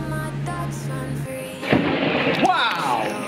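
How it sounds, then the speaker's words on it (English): Thunder rumbles in as a storm arrives over the UK, a low roll with a sharper crack near the middle, loud and fairly close, with no talking over it. "and the storm has arrived."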